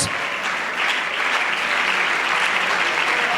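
Loud, sustained applause from a church congregation during a Sunday school service, an even wash of many hands clapping throughout with no pause.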